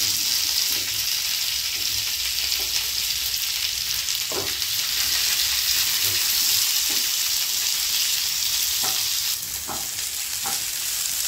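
Onions and coriander stems fry in a pan for a shahi mixed vegetable dish, giving a constant close sizzle with occasional stirring taps and scrapes throughout.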